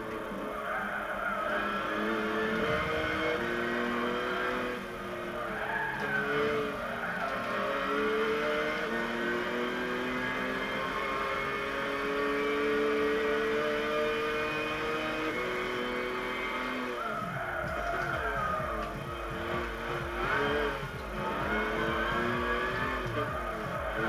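Audi R10 TDI diesel race car from 2006 in Gran Turismo 6, its engine droning steadily and loudly throughout with pitch shifts as it accelerates and changes gear, alone without talk.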